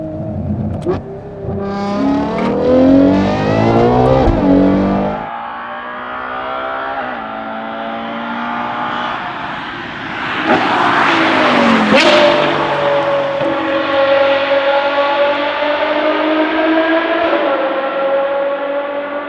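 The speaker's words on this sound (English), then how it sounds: "only exhaust sound of the red one and the black car" A Novitec-tuned Ferrari Purosangue V12 SUV revs hard several times, exhaust roaring and rising in pitch, loud and close, with no talking.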